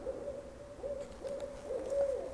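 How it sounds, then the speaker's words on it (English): An owl hoots alone in a quiet setting, a series of soft, steady hoots repeating at an even pace with no talk over them. "An owl."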